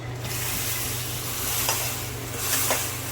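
Hot ghee tempering with raisins is poured into a pot of rice kheer and gives off a loud, close, hissing sizzle that stays steady and swells briefly a couple of times.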